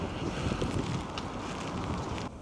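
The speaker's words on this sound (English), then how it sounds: "Very windy." Steady gusting wind at a scenic overlook in Ålesund, Norway buffets the microphone, a low rumbling roar throughout with no voices.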